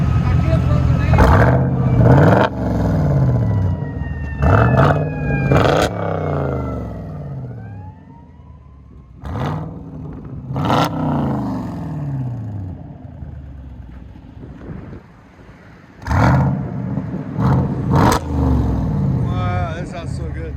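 A 2018 Chevy Camaro SS with a 6.2-liter V8, rear high-flow cats, X-pipe, race bullet mufflers and 5-inch tips revs repeatedly outside, each loud blip rising and falling in pitch, with short idle gaps and people talking between pulls.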